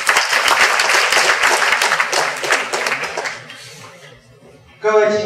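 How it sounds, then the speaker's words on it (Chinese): An audience at a working-holiday information session in Taichung applauds warmly to welcome an education ministry youth official. The loud, dense clapping thins and fades over a few seconds before a voice begins speaking. "请大家再次掌声欢迎"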